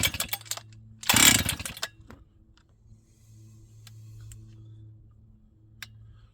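A Husqvarna 268XP chainsaw from an auction is being started, likely with bad fuel in the carburetor. Quiet clicks and handling noises are followed by one short loud burst of about a second, then a low rumbling idle or hum.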